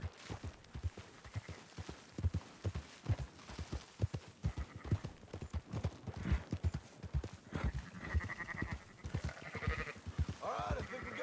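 Horse hooves clip-clop steadily while sheep bleat throughout a herding scene in the video game Red Dead Redemption 2, the hoofbeats loud and rhythmic with bleats layered on top.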